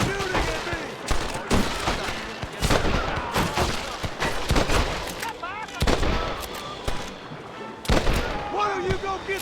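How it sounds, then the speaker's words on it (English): Gunfire in the video game Red Dead Redemption, with dense repeated sharp shots and rapid volleys through a busy firefight, voices shouting over the shooting. "Stop shooting at me!"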